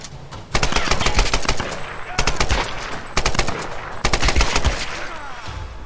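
AK rifle fire in Tomb Raider, three long automatic bursts of sharp rapid shots, loud and close with brief pauses between them.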